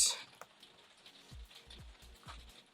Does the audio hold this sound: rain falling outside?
yes